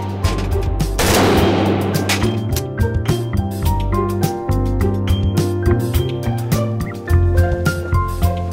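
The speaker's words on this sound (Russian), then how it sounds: "Полностью собранное оружие пристреливается в тире." Fully assembled rifles or assault rifles test-fired in an indoor shooting range: a steady run of sharp gunshots and bursts, loud and close, with a heavy blast near the start and continuous firing throughout.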